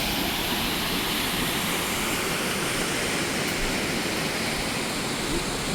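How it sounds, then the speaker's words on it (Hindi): Bhalugada waterfall in Uttarakhand rushes with a loud, unbroken roar of falling water, heard close and steady throughout with no voices. "फिर हम पानी के बहुत धार के नज़दीक आ गए हैं।"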